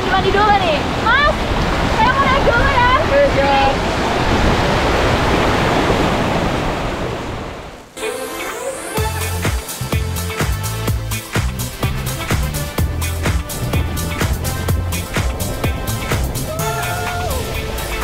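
The Giri Tirta waterfall roars in a continuous broadband rush for the first half. It then gives way to music, with a voice speaking over the scene.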